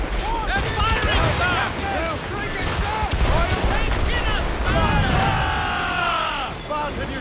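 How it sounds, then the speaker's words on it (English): Naval gunfire from sailing warships in Assassin's Creed Rogue, booming under continuous wind and water noise while crew voices shout throughout. "They're firing, sir!"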